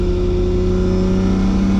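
An 1100hp Nissan R32 Skyline GTR street car engine on full boost, revving loud and close with a strong droning tone that pulls steadily higher through a short burst.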